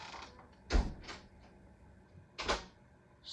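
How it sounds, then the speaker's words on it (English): A door closes in two separate bursts, each a short creaking thud with a low knock, close by and fairly loud against a quiet room, with no speech. "Stop closing the door."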